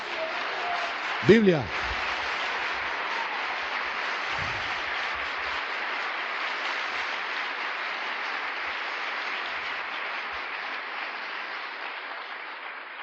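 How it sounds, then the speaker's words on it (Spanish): A church congregation applauds the Lord in a long, even, moderately distant roar of clapping. A brief spoken word comes near the start. "Démosle un aplauso al Señor"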